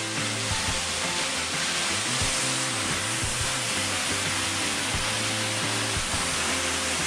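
Iori Falls in Nikko, Tochigi, a small winter waterfall among ice and icicles, pours with a constant loud hiss heard from close behind the falls, with faint low tonal hum mixed in.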